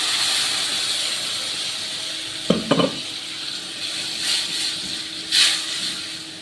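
Half a kilo of tomatoes added to frying onions in a pan, a steady hiss and sizzle with a few sharp clattering knocks midway and a brief louder burst near the end.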